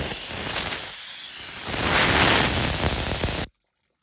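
Air hissing out of a punctured tractor tyre valve, a loud, steady, close rushing hiss that holds for about three and a half seconds and then cuts off abruptly into silence.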